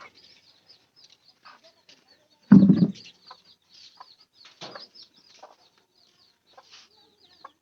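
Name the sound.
chickens clucking in a pigeon and poultry farm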